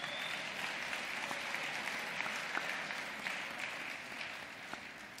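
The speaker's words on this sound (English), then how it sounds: "A big round of applause for all of them." Sustained applause from an audience at an awards ceremony, dense and steady clapping throughout, slightly thinning toward the end.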